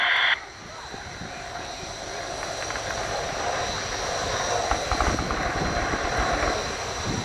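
An RAF Apache attack helicopter flies a display manoeuvre at a large air show, producing a loud, steady rotor and engine roar that swells slightly as it passes, with faint crowd or PA sound underneath.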